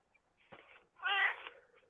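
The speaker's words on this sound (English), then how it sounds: "I just heard a cat." A cat gives a short, faint meow, then a louder, longer one a moment later, heard alone in a quiet indoor room.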